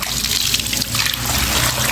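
About four to five litres of water splashes and gushes steadily into a cattle feeding trough while preparing feed for a cow that has lost its appetite, a close, continuous pour lasting a couple of seconds.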